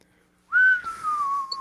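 A person whistles one clear, sustained note that starts abruptly, dips slightly in pitch and holds steady, close and fairly loud with no other sound behind it.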